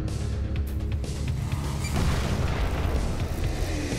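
Explosives blow up cars in the side-scrolling action game Huntdown, producing a loud, sustained roaring boom with crashing debris that fills the whole stretch, without any speech.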